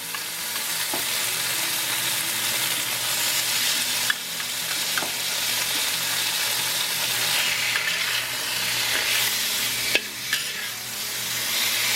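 Pork belly stir frying in a hot pan, a loud sustained sizzle swelling as pieces drop in, punctuated by a few sharp clacks of utensils against the pan.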